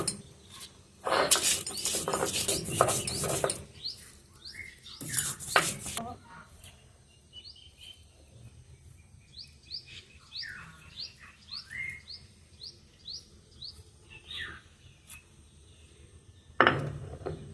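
Dried chillies are ground on a grinding stone for a taki fish bhorta, producing loud, rough scraping bursts at close range. Between the bursts there are quieter stretches where birds chirp outdoors.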